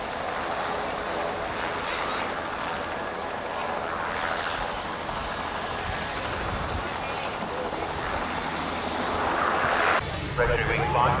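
The engine of a Yak-52 aircraft runs at a steady, loud drone that holds throughout, with a slight surge near the end. A voice talks over the engine noise.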